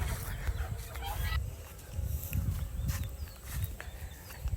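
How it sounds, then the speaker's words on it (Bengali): Chickens on a home poultry yard cluck and chatter in bursts as they are released in the morning to feed, fairly close, over a low rumbling background. "এখানে আমার মুরগিগুলোকে ছেড়ে দিতেছি"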